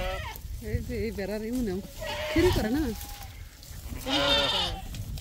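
Goats at a village home bleat several times in wavering, quavering calls, close by, with people talking over and between them.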